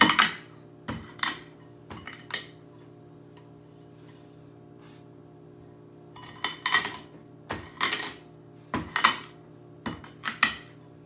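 Peppercorns coarsely cracked for steak au poivre, heard as bursts of close, gritty crunching that come in short clusters with a quiet pause in the middle, over a low steady hum.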